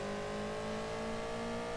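A rally car engine in the racing game Rally Championship 2000 drones at a steady high rev with a sustained tonal whine and no gear change, heard alone and fairly close.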